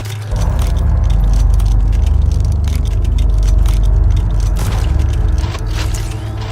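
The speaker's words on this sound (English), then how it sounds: "Reloading." A weapon reloads in the sci-fi video game Red Solstice 2: several seconds of loud, dense metallic clicking, clattering and scraping, close and continuous, with no voices.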